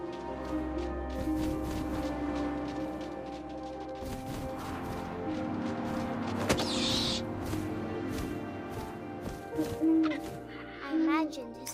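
Soft, low owl hoots in a video game, a pair of short calls near the end, over a quiet ambient bed with scattered clicks and a brief hiss, while a voice speaks.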